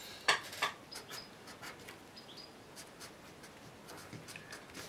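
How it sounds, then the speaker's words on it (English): Writing on a board during an aviation fuel-planning lesson: two quick, scratchy strokes at the start, then faint, sparse scratches and taps in a quiet room. "I'll just write it here for you."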